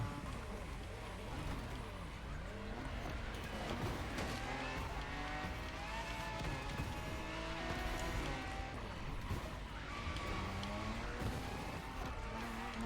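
Race car accelerating in The Crew Motorfest racing game: dense, loud engine roar with shifting revs, tire squeals and skids, passing cars, and a voice talking over the constant driving noise.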